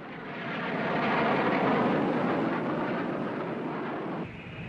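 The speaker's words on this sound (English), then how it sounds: "The MiG-21 all-weather interceptor was able to fly at twice the speed of sound" A loud, broad roar of a MiG-21 jet fighter swells and holds steady, then eases off near the end, with no voices.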